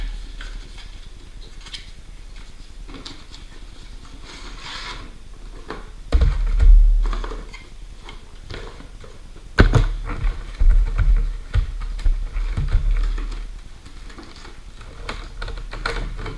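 Packaging for a Harley Davidson Battery Tender is handled and opened, with quiet rustling and a few sharper bursts of crinkling and tapping, close and intermittent with no talking.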